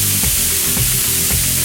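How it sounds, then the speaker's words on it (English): Onions hit a hot griddle and burst into a loud, steady sizzle that stays close and continuous throughout, with faint scraping underneath and no voices. "Gonna throw some onions on as well."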